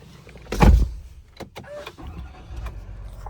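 A pickup truck's power seat motor gives a brief whirring burst near the start, followed by quieter cabin shuffling and clicks.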